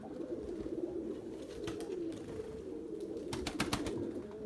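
Pigeons, including a white female, fly overhead while soft cooing hums steadily throughout, with a few brief flutters and wingbeats near the middle and a clustered burst toward the end.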